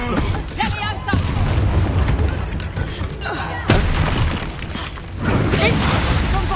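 Bombarda blasting spell explosions in Hogwarts Legacy, loud booming blasts and crashing debris in quick succession amid combat noise, with shouting voices in between.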